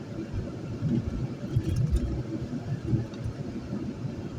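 A car driving on the road, heard from inside the cabin as a steady low rumble of engine and road noise, continuous and even throughout with no talk.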